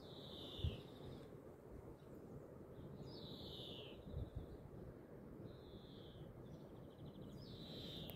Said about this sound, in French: il y a les petits oiseaux qui chantent